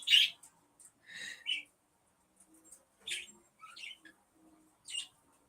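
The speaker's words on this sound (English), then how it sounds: "as you hear, my birds are being loud" Pet birds calling loudly indoors, several sharp chirps and squawks in short bursts separated by quiet gaps, fairly close.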